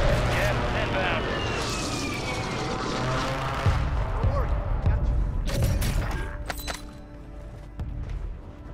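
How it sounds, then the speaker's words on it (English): Precision airstrike in Call of Duty, with an aircraft roar sweeping overhead followed by a run of loud, sharp explosions and a scattered rumbling aftermath. "Friendly precision airstrike inbound"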